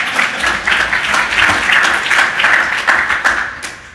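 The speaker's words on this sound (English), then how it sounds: "A round of applause." Loud, close applause from a meeting audience, dense clapping that swells and fades in waves for a few seconds with little talk.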